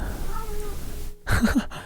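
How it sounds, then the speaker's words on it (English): A cat lets out a short burst of odd, strained meows, close and loud after a stretch of low room noise. "my cat just made some crazy sounds"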